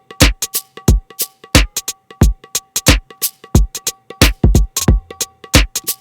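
Tabla pattern in a Bollywood pop track: crisp, loud drum strokes in a quick repeating rhythm, sharp ringing taps mixed with deeper booming hits, alone with no voices.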